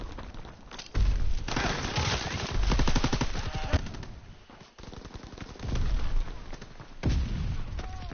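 Artillery and gunfire in a WWII video game: loud, close machine-gun bursts in rapid rhythmic volleys, with heavy booms from incoming shells and a short lull between bursts.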